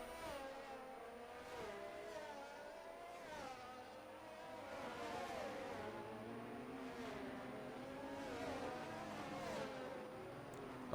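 Formula 1 race cars in a racing video game at the Canada round, several engines whining and revving together as a pack, a steady, fairly faint stream of overlapping pitches rising and falling with no talk.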